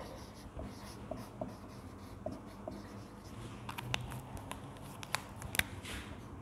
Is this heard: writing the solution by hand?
yes